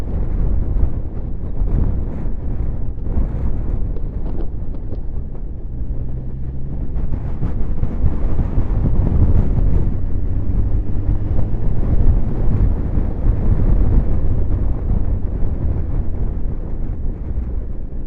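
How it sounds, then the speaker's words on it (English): Steady, loud wind buffeting roars low and heavy across the microphone while riding a Suzuki GSX-S1000GT motorcycle on roads near Loch Lomond, with a faint engine drone beneath and no talking. "Wind."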